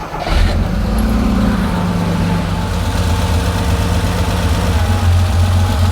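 A Porsche 911 2.8 RSR engine turns over with a brief starter whirr, catches, and settles into a loud, steady, rumbling idle close by, running on one bank of coil packs while being diagnosed after dyno trouble.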